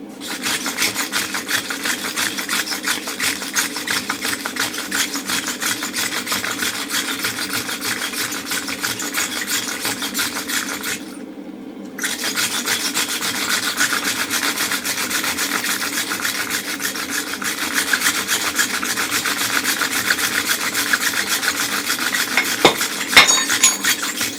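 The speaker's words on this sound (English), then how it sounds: "then we're going to wire brush it" A wire brush scrubs a hot steel round punch after it has been heated and straightened at the forge. The scraping is steady and close, running for about twenty seconds with one short break and no talk.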